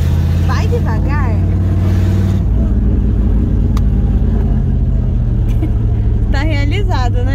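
Ford Galaxie V8 engine revving through a newly fitted exhaust, a loud continuous rumble that swells and shifts, with people talking over it throughout.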